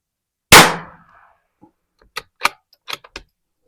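A single Ruger Precision Rifle shot at a shooting range, one loud sharp crack with a short decaying tail, followed by several quieter metallic clicks and clacks of handling.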